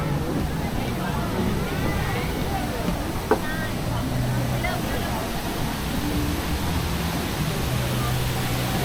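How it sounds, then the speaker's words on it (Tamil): An indoor waterfall pours at Central Park Dusit Mall in Bangkok, making a steady rushing wash that fills the space while people talk over it. "ஏதோ அந்த மேலே அந்த அருவி கொட்டுறது."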